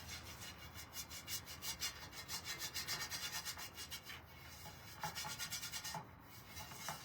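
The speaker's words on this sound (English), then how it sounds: "I'm probably gonna go ahead and give a small light coat of wax over here as well" A light coat of wax is rubbed by hand onto a lemon tray during a makeover, making quiet, rhythmic back-and-forth scrubbing strokes in a regular pattern, close up and alone.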